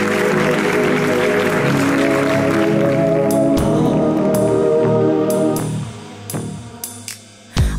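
Audience applause for a singer on a Greek TV show, a steady dense wash of clapping that fades out after about five seconds, leaving a few scattered claps.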